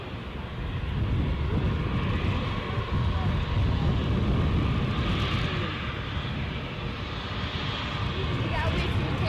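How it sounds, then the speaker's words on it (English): Embraer 190 airliner taxiing or climbing away at gusty Edinburgh airport, a steady broad jet roar held at moderate distance with wind noise throughout, no speech heard. "So this Embraer 190 standard on its way back to Amsterdam."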